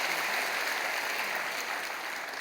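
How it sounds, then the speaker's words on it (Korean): Church congregation applauding at Kwanglim Church to welcome infants after their baptism, a dense, steady, even roar of many hands clapping throughout. "여러분 크게 박수로 환영하시지요."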